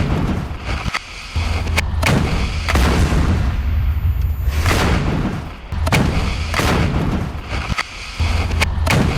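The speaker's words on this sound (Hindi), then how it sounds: "हिजबुल्लाह के ठिकानों पर बमबारी की गई है।" Israeli bombardment of Hezbollah positions in southern Lebanon: loud, heavy explosions boom one after another every second or two, with rumbling blasts and roaring noise filling the gaps.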